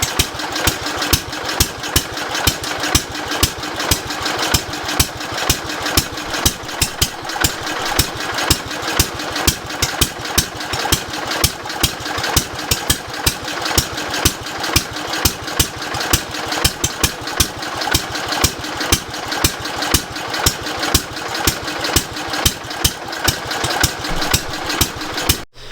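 Rare 1970s tractor engine running at a steady idle, a rapid, even chugging pulse with sharp knocks repeating throughout, loud and close for the whole stretch, no voices.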